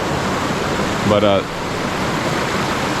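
A creek crossing in the woods fills the air with a constant broadband rush of water. A voice cuts in briefly over the steady flow.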